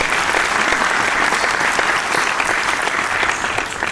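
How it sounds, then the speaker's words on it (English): An audience at a startup panel event applauds a speaker, a dense, steady round of clapping from many hands sustained without a break, with no talking over it. "I think a bigger round of applause"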